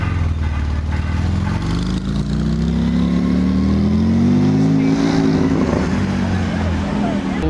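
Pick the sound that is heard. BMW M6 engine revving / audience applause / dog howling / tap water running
BMW M6 engine revving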